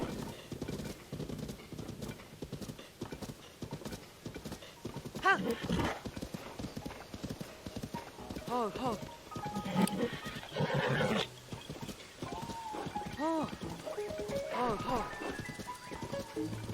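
Horse hooves clip-clopping in the video game Tears of the Kingdom, a rapid rhythmic trot with occasional whinnies, under someone talking over the game.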